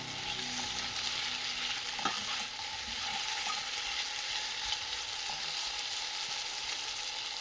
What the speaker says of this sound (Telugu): ఆలు ఒక 2 మినిట్స్ ఆయిల్లో ఫ్రై అయితే అప్పుడు పసుపు వేసేయండి.